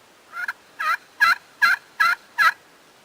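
A turkey call imitating a hen's yelp: six evenly spaced, raspy two-note calls, close and clear with no talking.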